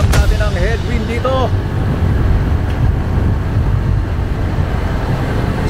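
Steady, loud wind roar buffeting the microphone during a team cycling time trial in Zambales, with riders pushing into a headwind at around 46 km/h; a brief voice is heard at the start over the constant low rumble.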